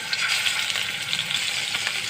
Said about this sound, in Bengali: এখন মাছটা আমি ভেজে নেব।